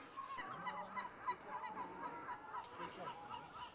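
Gulls call in a noisy colony on the Rock of Calpe (Peñón de Ifach) in Spain, giving repeated honking cries that overlap steadily throughout, with faint voices in the background.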